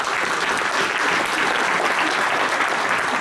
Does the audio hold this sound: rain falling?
no